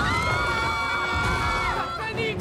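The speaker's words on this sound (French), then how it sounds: "Est-ce que vous avez entendu ces cris?" A crowd of people screaming and shouting together, children's voices prominent, loud and continuous with rising and falling pitches throughout.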